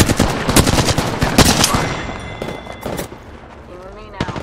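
Apex Legends gunfire during an attack, rapid machine-gun bursts cracking close and loud, thinning to scattered shots, with voices talking over the fighting.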